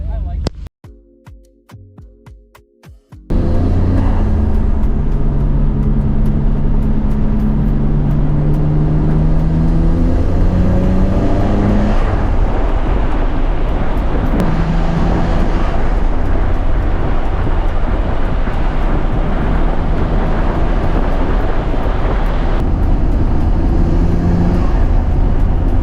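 BMW X3 M driven on roads at night, a loud steady engine and road roar after a brief quieter start, with rising and falling engine tones as it accelerates and shifts.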